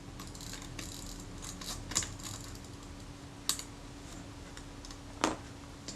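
The film advance lever of a Kodak Retinette IIA camera is worked by hand during servicing, giving quiet mechanical clicks and ratcheting ticks with a few sharper snaps, close and alone.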